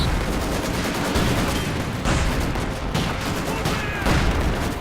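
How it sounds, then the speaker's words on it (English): In a Company of Heroes 2 battle, a light artillery barrage sounds as a dense, continuous rumble of blasts and gunfire, loud and busy throughout with sharp impacts rising out of the din. "Another light artillery barrage by the looks of it."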